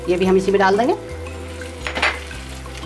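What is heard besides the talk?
tomato puree sizzling as it is sautéed in a pan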